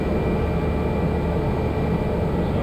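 Cessna Caravan turboprop engine on the ground, a steady, loud broadband roar with a constant hum throughout, close and unbroken, with no talk over it.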